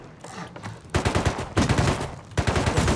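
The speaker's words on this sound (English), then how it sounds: "You're shooting me." Bursts of rapid automatic gunfire from the survival video game Rust, crackling in three loud volleys with a brief lull between them, fairly close and without talk.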